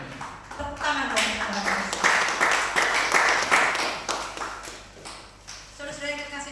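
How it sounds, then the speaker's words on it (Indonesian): A church congregation breaks into scattered clapping during a sermon, uneven hand claps mixed with murmuring voices and chatter, fairly close and lively, tapering off toward the end. "Tepuk tangan dong"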